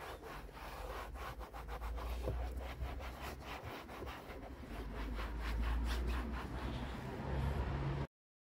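Car interior plastics in a Fiat 500 are wiped with a silicone sheet, giving close, quiet, rhythmic rubbing and scuffing strokes that continue steadily for several seconds before cutting off, with no talking.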